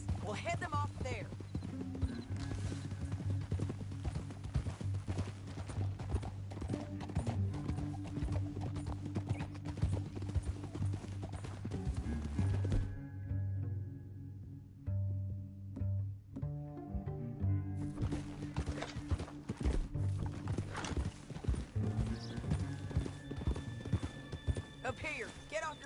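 Horse hooves clip-clopping in the video game Red Dead Redemption: a steady, rhythmic clopping runs throughout over dense game sound, thinning briefly midway before the full bed returns.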